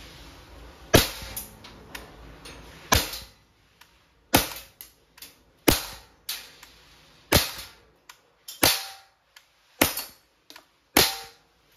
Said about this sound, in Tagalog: Testing. Glock 17 Gen 3 dual ammo. Firing.